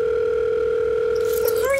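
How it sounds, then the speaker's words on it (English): A phone call rings out as a steady, continuous telephone tone that stays loud and unbroken, then shifts near the end with a brief change in pitch. "It's ringing."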